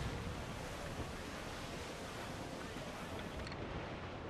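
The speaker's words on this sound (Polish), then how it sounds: "O, jakaś duża fala tutaj." A big ocean wave in the pirate game Assassin's Creed IV Black Flag, heard as a faint, steady wash of surf and wind-like noise with no distinct breaks.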